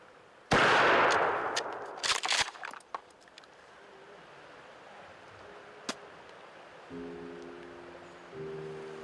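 A loud gunshot cracks near a bear, followed by rustling and several sharp knocks and clatters, then quieter rustling and a faint tonal hum toward the end.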